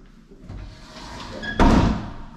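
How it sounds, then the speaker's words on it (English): An apartment closet door bangs shut once with a loud, sharp slam after a short stretch of quiet shuffling and creaking in the room. "I'm over here slamming doors"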